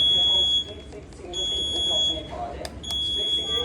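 Hero Xtreme 250R motorcycle sounding an alert signal while the bike will not start, repeated high electronic beeps in bursts of about a second with short gaps, close by over low background noise.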